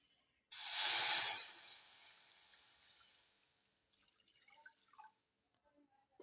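A sharp, loud sizzle bursts out as water hits a hot pan of roasting semolina for jaggery sheera, then the hissing fades to a quieter bubbling with a few faint clinks.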